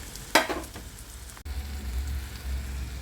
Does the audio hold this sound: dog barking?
no